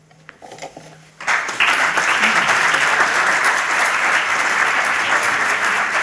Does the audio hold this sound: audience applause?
yes